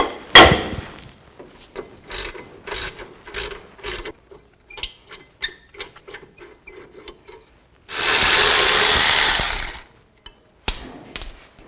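An 18mm socket on a ratchet loosens the rear axle bracket bolts on a 2000-2006 Chevy Tahoe: close, irregular ratcheting clicks and clanks, then a loud two-second mechanical burst and a few more clicks.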